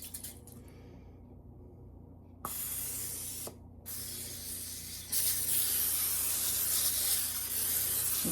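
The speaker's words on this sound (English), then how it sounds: "And I spray it." Pam cooking spray sprayed from an aerosol can onto a foil-lined pan, in several hissing bursts of rising length, close and fairly loud with no talking.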